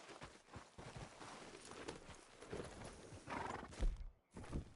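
In the video game Red Dead, a horse's hooves clip-clop in an uneven walking rhythm, close and fairly faint, with a brief gap near the end.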